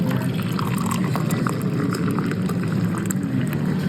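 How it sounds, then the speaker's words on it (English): Coffee being poured at a coffee roaster, a steady liquid splash and trickle filling a cup, close and continuous, with faint background noise. "You're pouring out coffee at like Main Street Roasters East right now."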